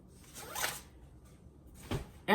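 A zipper pull with a piece caught in it is tugged open in a few short rasping pulls, close and fairly quiet, ending with a louder scrape.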